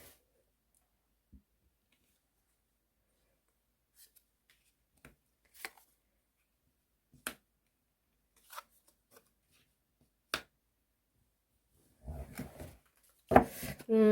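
Tarot cards are drawn in a quiet room, giving sparse, faint clicks and flicks spaced a second or two apart, then a brief flurry of shuffling rustles near the end.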